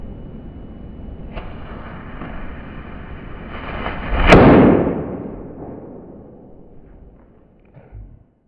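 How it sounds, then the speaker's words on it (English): A lit firecracker detonates behind a bag of water set up as a shape charge, giving one sharp, loud blast that rings out and slowly decays over a low outdoor rumble. "my creation of a shape charge, and basically it constitutes a bag of water in front of a firecracker that's lit"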